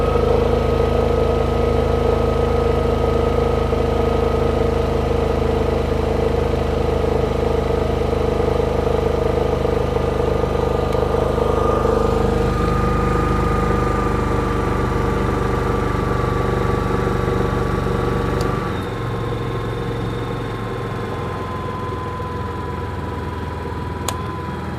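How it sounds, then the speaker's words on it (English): A portable generator drones steadily while HMI film lights are switched off one by one, its engine note shifting and dropping partway through and settling lower and quieter near the end, with no talking. "have a listen to the generator noise as I cycle everything down"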